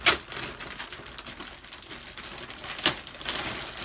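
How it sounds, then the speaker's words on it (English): A paper bag crinkles and rustles as it is pulled off a Longchamp Le Foulonne travel backpack, with sharp crackling bursts at the start and near the end between softer handling sounds. "let me remove the paper bag"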